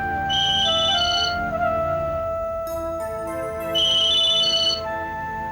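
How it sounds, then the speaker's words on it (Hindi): A phone ringtone chirps in two bursts a few seconds apart, loud and close over a steady tonal background. "क्या हुआ अविनाश, फोन क्यों नहीं उठा रहे?"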